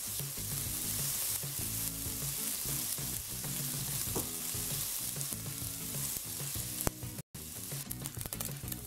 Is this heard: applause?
no